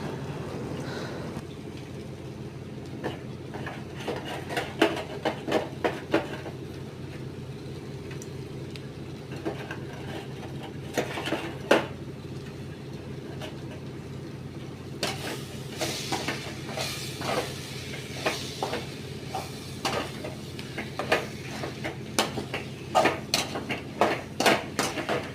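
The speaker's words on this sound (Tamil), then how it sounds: "கருவாடை போட்டு ஒரு 2 மினிட்ஸ் நல்லா வதக்குன்னு வதக்கிக்கோங்க" Cleaned dried fish being sautéed for karuvadu thokku, a long stretch of low pan hiss with scattered clinks and scrapes of a ladle, growing busier toward the end.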